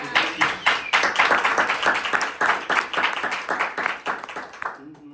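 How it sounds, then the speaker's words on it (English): Lively crowd applause at a university honors event, many hands clapping rapidly and steadily for several seconds before tapering off, with voices mixed in. "But give some noise again, a round of applause for Guy."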